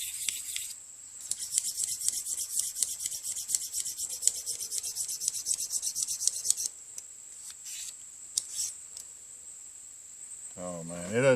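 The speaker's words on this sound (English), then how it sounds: "Oh man, it doesn't take much to put an edge on this thin stainless blade." A thin stainless Stanley pocket knife blade is sharpened in quick, rhythmic rasping strokes for several seconds. Sparser strokes follow after a pause, then a voice briefly speaks at the end.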